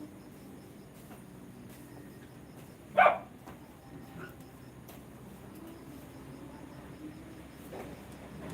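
One short bark from a dog at feeding time rings out over a quiet background hum, then nothing further.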